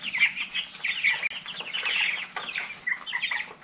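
A flock of pasture-raised chickens in a mobile chicken tractor coop, clucking and chattering continuously at close range, with many overlapping calls and no talk.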